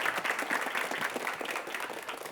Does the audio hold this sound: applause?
yes